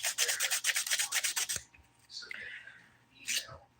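Polygel nail extensions being filed with the 180 grit side of a nail file, a quick run of about a dozen close, rhythmic rasping strokes, then a pause with brief soft talk.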